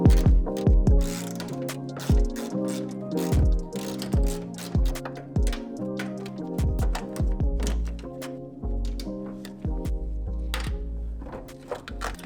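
Hand ratchet loosening 8mm nuts on the fuel pump hanger of a Mitsubishi Evo X, producing rapid rhythmic clicking bursts with metallic knocks throughout, close and loud with no talking.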